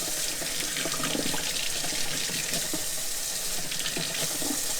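A kitchen faucet runs not-too-hot water into one side of a sink for washing a whole chicken, a loud, close, unbroken hiss and splash with no voices.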